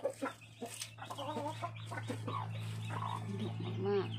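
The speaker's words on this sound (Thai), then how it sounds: "นี่แม่ไก่กำลังฟักไข" A black hen sitting on eggs clucks in repeated short, agitated bursts close by, over a steady low hum, on a small black-chicken farm in Phetchabun, Thailand.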